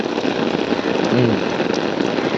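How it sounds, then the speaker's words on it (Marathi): Heavy rain falls outdoors in a steady, dense broadband wash, loud and continuous throughout with no talk. "आमच्या इथे लय पाऊस यायला लागला. लय म्हणजे ओव्हर पाऊस आला."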